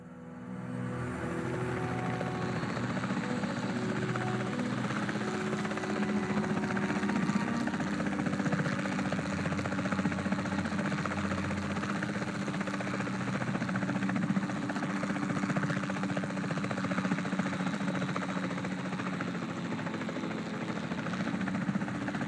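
A helicopter in the dinosaur park game Jurassic World Evolution hums with a steady engine drone and rotor vibration, holding at an even level throughout with no voices over it.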